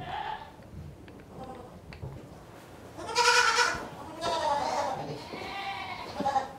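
Goats bleat at a zoo, with several harmonic calls standing out clearly, the loudest near the middle and others following, over low background noise and some faint talk.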